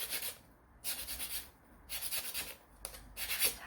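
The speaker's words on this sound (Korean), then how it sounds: "요 나무 막대도 사포질을" Rhythmic strokes of sandpaper rub back and forth against a wooden stick, four quick scratchy passes separated by short pauses, close and fairly quiet.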